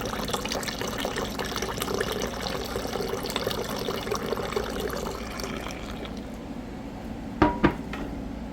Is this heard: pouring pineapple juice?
yes